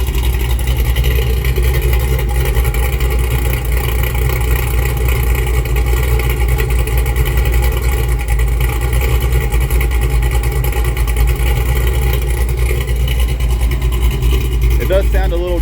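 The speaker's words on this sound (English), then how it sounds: "It does sound a little different now with the long tube headers on it." A 1984 GMC Sierra square body with a 6.0 engine swap, long tube headers and Black Widow exhaust idles close by, a loud, steady, deep rumble that holds unbroken throughout.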